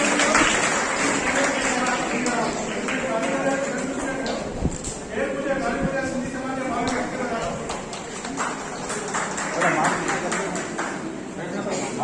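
Dense crackling applause fills the whole stretch at an indoor Sindhi literary community event while a voice speaks over it in Sindhi, the clapping steady and fairly loud throughout.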